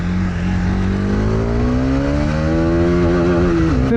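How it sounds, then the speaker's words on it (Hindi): Bajaj Pulsar motorcycle fitted with a new sprocket set, accelerating in first gear; the close, loud engine note climbs steadily in pitch for the whole stretch. "तो बाइक है अभी फर्स्ट गियर में"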